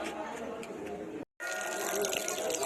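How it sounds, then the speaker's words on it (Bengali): Water runs steadily from a tap as feet are washed on the way to a temple, a continuous close splashing rush broken by a brief gap, with a voice speaking over it. "প্রথমে আগে পা ধুয়ে নেবো"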